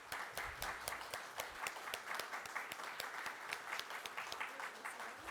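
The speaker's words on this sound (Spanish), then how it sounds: "vamos a darles un aplauso." A church congregation applauds after a prayer at a service, a fairly faint, steady patter of many hands with distinct individual claps, heard alone without talk.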